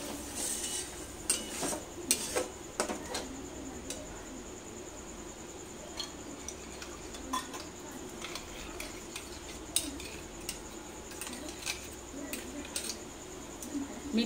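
Cauliflower curry being stir-fried in a pan: quiet, irregular scraping and clinking of a utensil against the pan over a low sizzle, with occasional sharper taps, fairly close.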